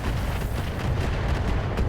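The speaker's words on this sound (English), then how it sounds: "And we're going to fire on the Atlas here." Heavy mech weapons in a BattleTech game fire on an Atlas, a dense run of loud booming blasts and rumbling impacts with no pause across the stretch.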